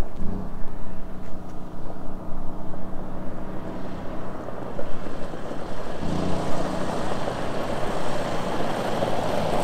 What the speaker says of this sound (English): But at this point, all you hear is the gravel.